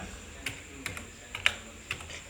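A few separate keystrokes on a computer keyboard while entering data in an Excel spreadsheet, sparse clicks spaced unevenly, close and fairly quiet, with no talking.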